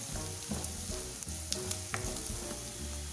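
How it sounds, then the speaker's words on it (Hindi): Chopped ginger and green chillies frying with onions in a pan, a continuous close sizzle with scattered sharp pops and light stirring scrapes, no voices. "अब डाल देंगे इसमें अदरक और हरी मिर्च। इसको भी प्याज के साथ भून लेंगे।"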